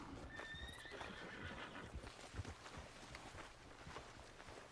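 A horse in Red Dead Redemption 2 whinnies and its hooves clip-clop on the ground, with a rustle of wind in the background, fairly faint overall.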